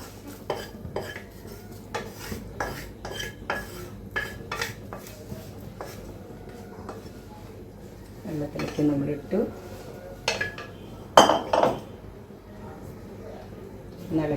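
A metal spoon stirs and scrapes Chinese soup in a pan at home, with repeated clinks and knocks against the pot in an uneven rhythm, close and fairly loud, while someone talks over it.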